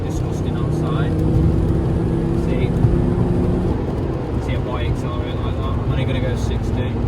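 A Fiat Coupe 20v Turbo accelerates on a wet, rainy road, its steady engine drone and road rumble filling the cabin throughout, with a driver talking over it.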